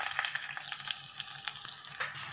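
Mustard seeds, curry leaves, dry red chillies and crushed garlic frying in hot oil for a green sambar tempering, giving a steady close crackling sizzle with small pops and spatters throughout.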